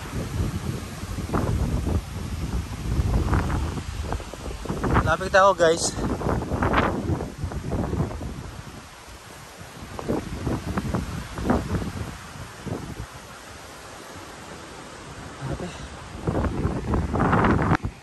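Strong gusty wind roars and buffets the microphone at Magsangyaw Land of Praise in Tupi, with a person talking over it and brief excited exclamations.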